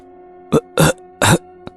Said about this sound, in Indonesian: tersedak dan batuk